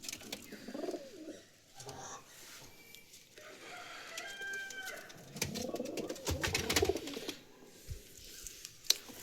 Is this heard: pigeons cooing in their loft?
yes